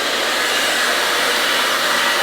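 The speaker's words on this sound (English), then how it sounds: "You're going to dry your skin to within an inch of its life with a hairdryer." A hair dryer drying pork skin for crackling blows steadily and loudly throughout, a constant broadband whoosh with no pauses and no voices.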